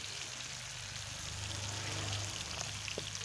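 Food frying in oil over a wood fire gives a steady, faint, rain-like crackling sizzle, continuous with a low hum beneath and no voices.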